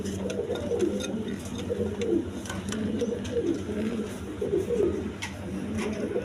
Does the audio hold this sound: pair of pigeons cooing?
yes